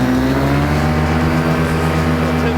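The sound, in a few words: paramotor engine running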